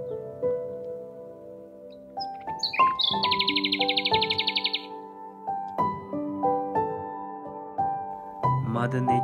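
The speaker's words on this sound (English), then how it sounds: "hearing the singing of the birds with beautiful melodies" Birds sing melodic chirps and tweets among blooming cherry blossom trees in Shillong, with a rapid trilling burst midway and a musical background underneath, no voices.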